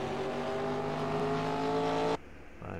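Race cars in the NR2003 racing game leave pit road with a steady, loud engine drone that cuts off abruptly near the end, followed by a faint low rumble.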